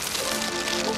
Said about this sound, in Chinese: 啲雨水好酸好臭。